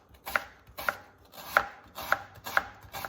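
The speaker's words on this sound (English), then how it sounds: "let's start by chopping up some onions for our tomato salsa dish" A knife chops onions on a cutting board for a tomato salsa, five or six steady, evenly spaced thuds, close and crisp with no talking.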